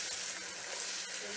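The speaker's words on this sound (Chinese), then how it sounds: "先煎个鸡蛋。" An egg sizzles in oil in a non-stick pan, a steady close frying hiss that runs without a break and stays fairly quiet throughout.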